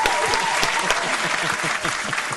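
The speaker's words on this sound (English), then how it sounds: "Where's my claps?" A burst of clapping on a podcast, thick continuous applause rolling on for a couple of seconds with a faint voice murmuring underneath.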